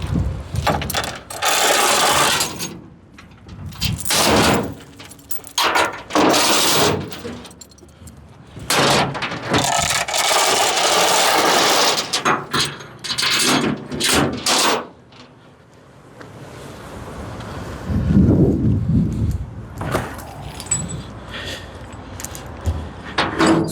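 Chain and ratchet binder tightened at the rear of heavy equipment for transport, with repeated metallic clanks, rattles and ratcheting clicks in uneven bursts, close by and fairly loud, with brief pauses between.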